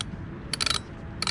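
A Lewmar 30 sailboat winch on a Catalina 36, freshly cleaned and greased but still tight, gives two short bursts of rapid metallic ratchet clicks, close and crisp, separated by a quiet pause.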